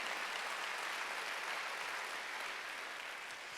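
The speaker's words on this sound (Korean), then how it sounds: "박수 하세요" Applause from a church congregation at a Korean Wednesday worship service: steady, dense clapping that holds evenly throughout, moderately loud and diffuse, with no voices standing out.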